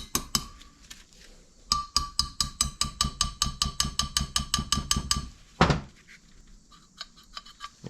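Repeated hammer taps ring out on a stuck 1964 Jeep CJ5 engine, a steady run of about twenty sharp metallic strikes with a few scattered knocks before and a louder clunk near the end.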